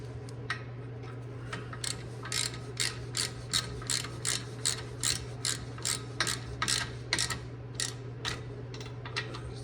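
A ratchet clicks steadily in close, rhythmic strokes while tightening a brake caliper bolt on a 2013 Lexus RX350 during a brake pad job, over a low constant hum.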